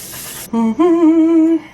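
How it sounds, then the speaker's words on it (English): A short, bright hiss of One Size On Till Dawn waterproof setting spray misted on a face lasts about half a second, followed by a brief hummed tone. "It's the One Size On Till Dawn waterproof setting spray."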